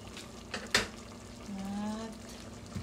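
Vegetables simmer in a cooking pot with coconut milk, smoked fish, meat, string beans and malunggay, giving a soft, steady bubbling broken by a few sharp utensil clinks against the pot.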